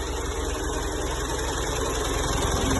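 An old John Deere 2130 tractor engine idles steadily, a continuous low mechanical rumble with a faint rhythmic knock, close and even throughout with no talking.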